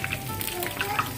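Piyaju onion fritters fry in hot oil in a Bangladeshi kitchen, a dense close crackle and sizzle with brief bubbling pops, continuous over the short span with no talk.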